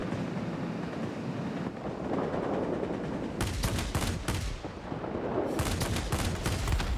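Aircraft cannons fire from a Kyushu J7W3 fighter in the World of Warplanes game: two rapid bursts of booming shots over a constant windy engine drone.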